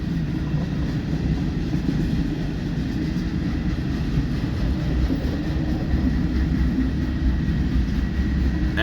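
A freight train rolls past close by with a steady, heavy rumble and rattle that holds unbroken for the whole stretch.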